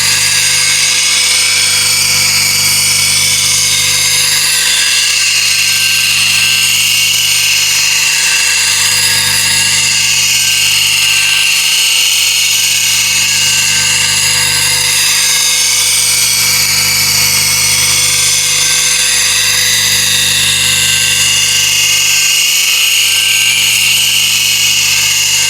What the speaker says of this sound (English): once you get the hang of it, you can go and sharpen quite fast